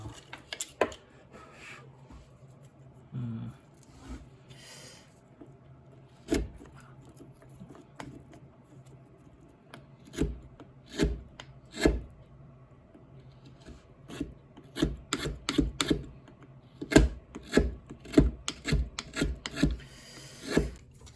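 Wood being carved by hand into a fox mask netsuke, a series of sharp scraping and rasping cuts that start sparse and grow faster and denser toward the end, close and crisp against a quiet background.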